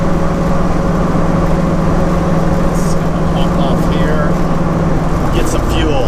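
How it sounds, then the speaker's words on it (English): A 1934 Ford coupe cruises down a road, its engine droning steadily with a low constant hum and road noise throughout, loud and close, while a person talks over it. "So I cruised down the road"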